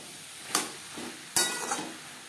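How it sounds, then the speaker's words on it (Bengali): Ridge gourd with coconut stirred and fried in a pan, two sharp scraping stirs with a soft sizzle between them, close and alone. "ঝিঙে বেশ ভালো করে মিক্স করে দেবো।"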